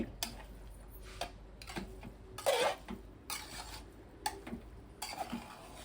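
Beef curry being stirred in a pot, with repeated scraping and clinking strokes of a utensil against the metal in an uneven rhythm, close and fairly quiet with no talk.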